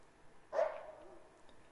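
A single short coyote bark rings out once, moderately loud, over a quiet background, from the hunting game theHunter: Call of the Wild.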